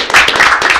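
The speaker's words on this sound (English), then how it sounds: "I think we can applaud for this one." Applause from the audience at a city commission meeting in Shelton, a short burst of many hands clapping, fairly loud and close.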